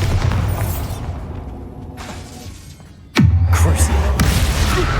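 Bombarda spell explosion in Hogwarts Legacy: a sudden loud booming blast strikes midway and leaves a heavy rumbling roar, set against dense game combat noise with shouted spell calls.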